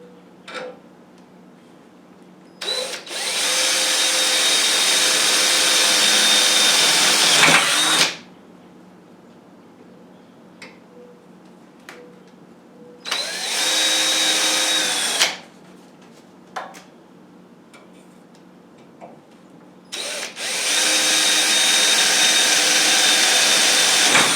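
A power drill whirs in three long bursts while boring holes in a wooden planer stand, loud and close, with quiet gaps and small knocks between the runs.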